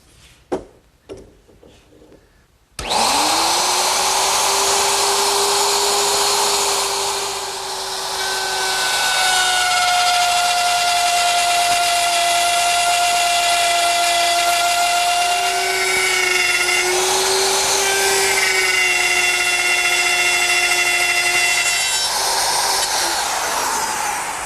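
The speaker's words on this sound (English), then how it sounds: "I've taken my router and I've installed a dovetailing bit" A router fitted with a dovetail bit starts up and whines loudly and steadily while cutting tails in wooden side pieces, its pitch dipping slightly under load at moments before it winds down at the end.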